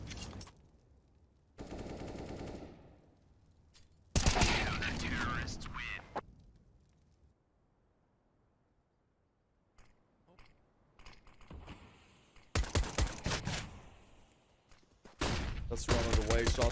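Bursts of rifle fire from a CS:GO esports match, coming in several loud clusters separated by quieter stretches, with commentary voices talking over parts of the action.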